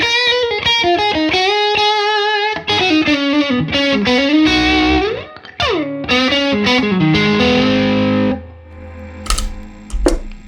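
Electric guitar solo played through a Supreme overdrive pedal, a distorted, sustaining lead line of bent and sliding notes, loud and close with no talking, fading to a few quieter picked notes near the end.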